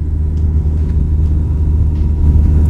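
Vehicle rolling slowly toward a ferry on a motorbike rally trip, with a steady, close, low engine rumble that holds constant throughout.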